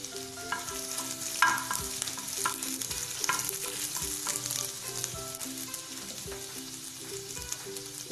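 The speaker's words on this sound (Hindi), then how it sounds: "इसको हम थोड़ा सौते कर लेंगे।" Finely chopped ginger and garlic sauté in a tablespoon of oil with a constant, moderately quiet sizzle and a few brighter crackles near the start, heard alone without talk.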